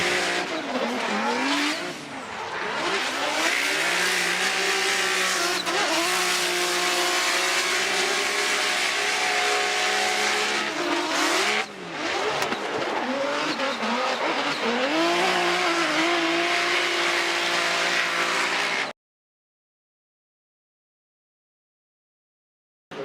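Formula Drift Toyota 86 race car drifting at an event in St. Louis, engine revving hard with rising and falling pitch and tires squealing, loud and close, cutting out abruptly near the end.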